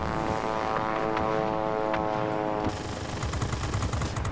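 An F-86A jet in World of Warplanes flies with a dense, steady engine roar, joined partway through by bursts of rapid machine-gun fire, loud and close throughout with no talk.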